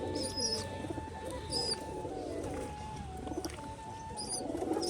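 Domestic pigeons, white and dobaj breeds, give soft low cooing while adults feed their chicks, a steady murmuring hum close by with a few faint higher chirps over it.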